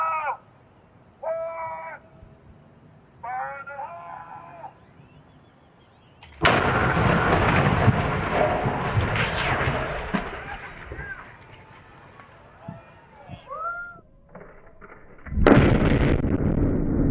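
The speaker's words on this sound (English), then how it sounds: "this bridge across the I-35 in Austin in Texas was constructed using a new post-tension cable concrete that has not been blasted previously. It's been blasted now." A concrete highway bridge with post-tensioned cables over I-35 in Austin, Texas, brought down by demolition blasting: a loud, sudden boom follows a few short voice calls, then long rumbling collapse noise, with a second heavy burst near the end.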